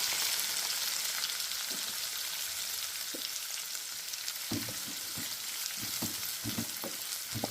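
Onions frying in hot oil with cumin and mustard seeds, a steady broadband sizzle throughout with occasional louder pops and stirring clatter toward the end, close and continuous.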